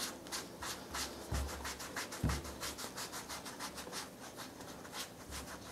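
A sponge is rubbed lightly in circles over an Alcantara steering wheel, giving a soft, rhythmic scrubbing swish that repeats steadily up close with no voices.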